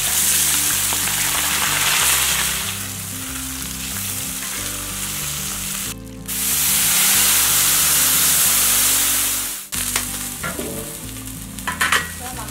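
Fish sizzles steadily in hot oil in a pan, a loud, close, continuous hiss broken by one brief pause and some stirring clatter near the end.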